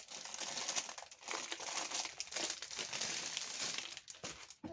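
Packaging is unwrapped with continuous close crinkling and crushing rustles, fairly quiet and steady for several seconds, with no talk.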